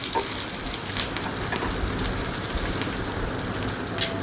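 Curry leaves and about thirty chillies sautéing in a pan for a spicy curry leaf kulambu, a steady close sizzle and crackle with no talking over it.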